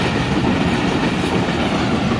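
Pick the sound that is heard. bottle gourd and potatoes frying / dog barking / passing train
passing train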